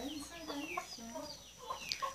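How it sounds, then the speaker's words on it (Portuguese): A chicken at the door of a home gives a string of soft, irregular clucks, quiet and fairly close, with no other sounds. "Olha o frango que tá aqui na sua porta"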